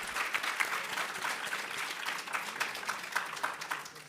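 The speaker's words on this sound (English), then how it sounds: "I'd please just like to give both Wael and Yumna a big round of applause" Audience at a press freedom congress opening ceremony applauds two journalists, a sustained, fairly distant wash of clapping with no speech.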